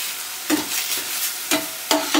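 Ginger and garlic fry in oil in a pan for a mushroom gravy, with a soft continuous sizzle and a few distinct spatula scrapes spaced about a second apart.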